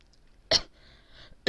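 Two short, sharp coughs from a man come about a second apart, close and fairly loud, with quiet room tone between them.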